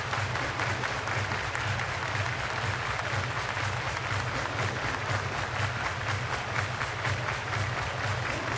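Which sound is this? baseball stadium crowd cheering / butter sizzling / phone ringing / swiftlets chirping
baseball stadium crowd cheering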